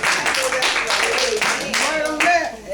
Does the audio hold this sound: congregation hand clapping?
yes